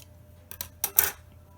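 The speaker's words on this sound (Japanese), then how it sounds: "今回ちょっと立体的にするために若干ここの部分ですね、手前の部分を少し 斜めにハサミを入れておきます" Scissors snipping into a non-woven drain filter sheet to shape a disposable mask, a few quiet close crisp cuts in quick succession.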